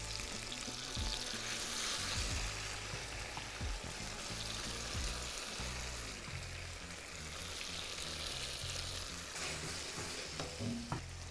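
Cod fillets frying in a pan with tomato and olives, a steady close sizzle with stirring and faint watery bubbling throughout.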